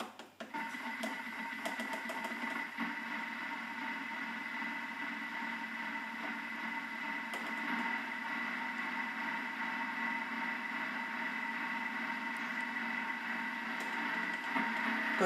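Blender running steadily at low power while salmorejo is mixed and oil is added a little at a time, a continuous motor whir with a faint rattle, alone and unbroken throughout.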